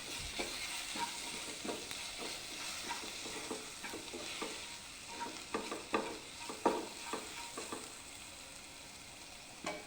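Coriander powder being dry-roasted for a chickpea curry, stirred in a pan with a spoon: a faint steady sizzle broken by repeated scraping and clinking strokes at an irregular rhythm, with no voices.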